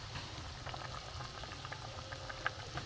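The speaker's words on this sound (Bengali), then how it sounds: "মাছের ঝোলটা ফুটে গেছে বন্ধুরা।" Rohu fish curry broth boils steadily in a pan, a soft continuous bubbling with small pops, fairly quiet and close.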